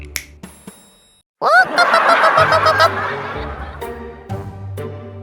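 A voice imitates a hen clucking with a burst of rapid, close clucks and squawks after a short silence, followed by scattered knocks and fainter cartoonish sounds.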